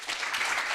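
A short burst of applause from a crowd at a research and innovation event, steady clapping throughout.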